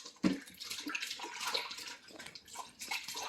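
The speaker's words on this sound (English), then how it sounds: "you're going to want to rinse the ingredients vigorously" Water splashes and runs over fresh ginger and other ingredients during a vigorous rinse, a continuous uneven gush with a sharp splash at the start, close by.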